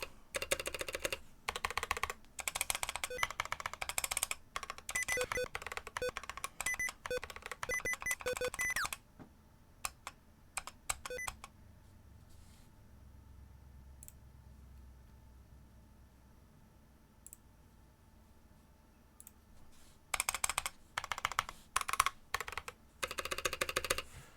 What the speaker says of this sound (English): that spacebar sounds god awful